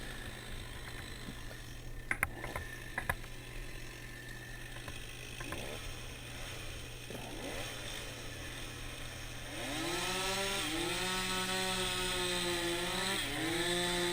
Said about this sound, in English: Opted to do a bore cut in this situation so that I could really set up the hinge the way I wanted it